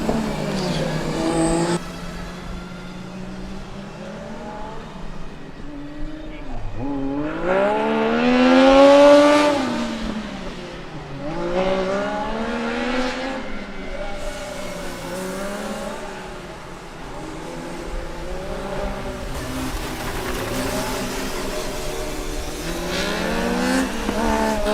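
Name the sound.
formula student race car engine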